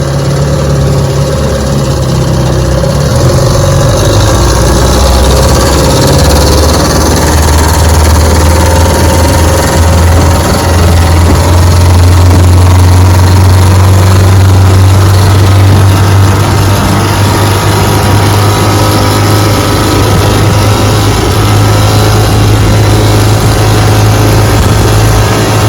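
A restored vintage outboard motor with a history of carburetor problems runs loudly and steadily up close, idling and then rising in pitch as it is revved, with no talking over it.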